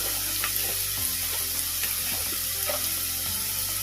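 Mushrooms and a handful of cashew nuts fry loudly in a pan, giving a dense, close, steady sizzle with intermittent stirring scrapes and no talking.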